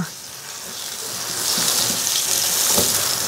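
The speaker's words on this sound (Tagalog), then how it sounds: "So, igigisa lang natin to para lumabas yung katas ng kamatis." Onion and tomato sautéing in a pan for a Cebu-style pochero, a steady close sizzle that grows slightly louder partway through, with faint stirring.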